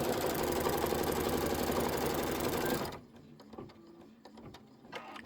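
Embroidery on a sewing machine stitching a wire dress form design runs in a rapid, steady mechanical chatter for about three seconds, then stops, leaving faint clicks and quiet handling.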